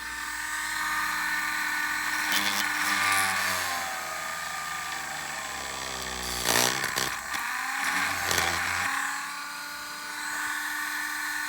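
A Dremel rotary tool drills holes in an AMT 1:537 USS Reliant plastic model kit, a high whining motor that runs steadily, dips in pitch, then surges in short bursts as the bit bites into the plastic.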